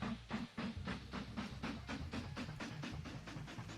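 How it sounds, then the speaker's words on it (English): Steam train running in the video game Mashinky, a rhythmic series of regular chuffing hisses over a low rumble, fairly loud and steady with no talk. "Sorry, guys. The train's a little bit loud."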